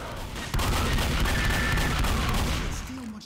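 Rapid gunfire in the zombie shooter Left 4 Dead, a dense burst of shots that fills most of the moment, loud and continuous, then tails off.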